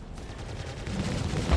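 Rapid video game gunfire pounding a spaceship's shields, a dense crackling burst of impacts that swells and grows louder toward the end, heard without talking.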